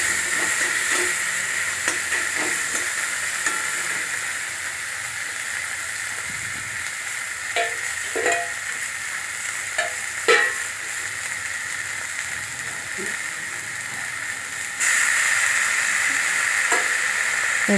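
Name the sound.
onions being stirred and fried with a spatula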